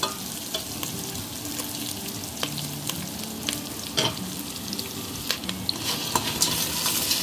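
Onion, garlic and ginger sautéing in hot oil make a steady, close sizzle, broken by sharp clacks and scrapes of a utensil stirring the pan.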